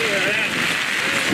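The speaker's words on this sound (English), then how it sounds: "I'm getting rained on." Rain falling at an outdoor high school boys soccer game, a steady dense patter on nearby surfaces filling the moment at even loudness, with no clear speech over it.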